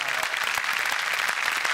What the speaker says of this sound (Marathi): त्यांच्यासाठी खरंच जोरदार टाळ्या.